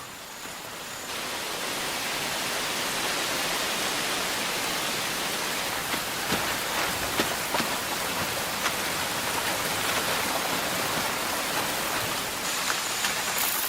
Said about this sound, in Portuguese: E a chuva continua durante semanas.